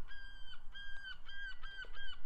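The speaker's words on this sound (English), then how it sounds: "despite the best efforts of the seagulls trying to put me off on that shot" Seagulls calling on a golf course in Porthmadog, a run of repeated honking, wailing cries in quick succession, fairly close over steady outdoor background noise.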